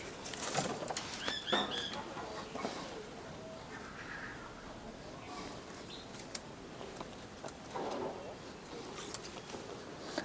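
Rajshahi Giribaz pigeons coo softly and flutter their wings indoors, with brief flaps and scattered bird sounds among quiet conversation nearby.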